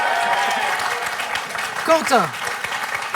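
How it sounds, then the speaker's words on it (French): A studio audience on a French quiz show applauds in a moderate, steady wash while a host speaks over the clapping. "Et Catherine, le public vous applaudit aussi."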